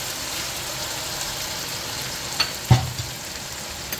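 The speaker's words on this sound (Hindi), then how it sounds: "अब इस लम्हे पर आकर के हम कटी हुई हरी मिर्चें डाल देंगे, इसे मिक्स कर लेते हैं हम।" Chicken frying in a pan with chopped green chillies being stirred in during a masala macaroni recipe, a steady low sizzle with a couple of brief scraping clatters near the end, no talking.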